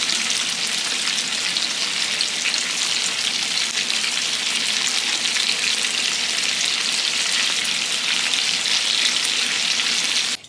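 Shrimp wrapped with bacon fry in a hot pan and are flipped, giving a loud, steady, dense sizzle throughout with no talk.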